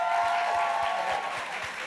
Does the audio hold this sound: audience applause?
yes